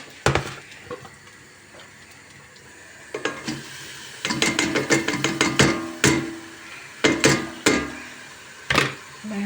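Sizzling and clattering in a pan as spinach roots and leaves are stirred and fried, with repeated sharp scraping knocks over a steady hiss.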